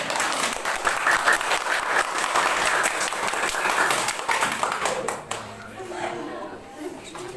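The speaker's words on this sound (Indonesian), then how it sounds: "Tepuk tangan." Sustained applause from a group, many hands clapping steadily and fairly loud, then tapering off toward the end.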